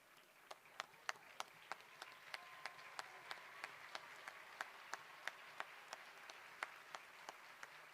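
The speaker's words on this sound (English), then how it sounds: "These students have earned a round of applause." At a high school graduation ceremony, faint, distant clapping for scholarship students beats in a steady rhythm of separate claps rather than a dense roar.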